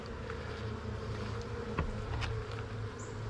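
Honeybees in a weak backyard hive give off a steady, close, dense buzzing that hums evenly throughout, with a few individual bees passing near, and no one talking.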